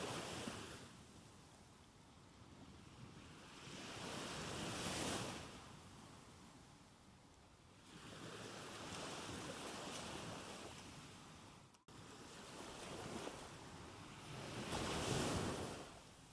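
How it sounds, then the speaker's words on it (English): Ocean waves lap in slow swells, a soft continuous wash that rises and falls every few seconds, gentle and fairly distant, with no voices. "As you listen to the soft rhythm of waves lapping beneath you"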